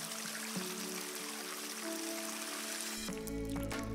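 Water drips and trickles softly in a grotto at Lost Maples State Natural Area in Texas, a faint, steady patter of drops over a hushed, hissing background.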